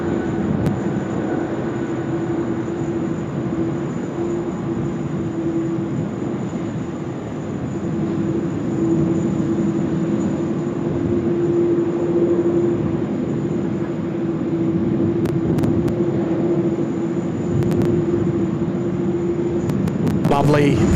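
An Air Canada airliner takes off from Sydney Airport bound for Vancouver, its engines giving a steady, loud, sustained roar with a droning tone throughout, and a voice talks over it.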